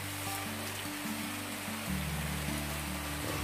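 Morning rain falls over a swamp, a steady broadband hiss that runs throughout, with low tonal hums layered beneath it.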